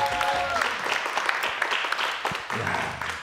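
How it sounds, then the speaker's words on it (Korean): Applause from an audience at a city football club event, a dense round of clapping with a few voices mixed in and some tonal sound at the start, fairly loud throughout. "박수 한번 보내주세요, 선수님 여러분."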